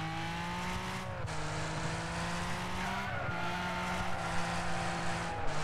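Car drifting in the Wreckfest racing game, a loud sustained engine drone with a tire squeal running across the whole stretch and pitch dips as the car shifts, with no speech.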